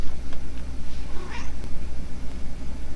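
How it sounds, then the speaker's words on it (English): A pet cat named Socks gives a single drawn-out meow in the middle, close and clear over a low steady hum, with no voices present. "Little cat. Little cat. Little cat. Littlest cat. Meow."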